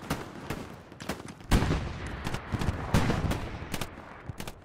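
Tank cannon and small-arms fire in the WWII shooter Hell Let Loose: several sharp, booming shots spread across the clip at varied distances, with a louder heavy blast near the middle, all heard over a steady battlefield din.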